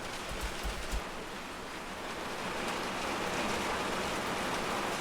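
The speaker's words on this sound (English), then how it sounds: "Can you hear that rain? It is coming down." Steady rain pours down, a dense hiss of drops that grows slightly heavier, with a few low thumps near the start.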